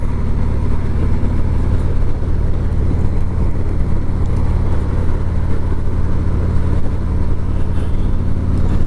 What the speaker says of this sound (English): I am on my Tri-Glide today